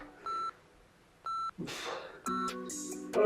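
Electronic interval-timer beeps during a home fat-burning and strength workout: two short clean tonal beeps about a second apart, then a longer multi-tone chime near the end, with a brief voice and breathing in between.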